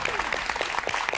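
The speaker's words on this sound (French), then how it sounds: "le public vous applaudit" A game show studio audience applauding a contestant, a dense patter of many hands clapping, steady and moderately loud, with a voice faintly underneath.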